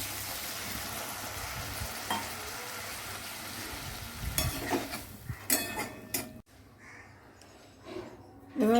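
Water poured into a hot pan holding dal tempering with a little chili powder, a loud sizzle and bubbling with stirring and clinks of a spoon against the pan, continuing then dropping quieter toward the end.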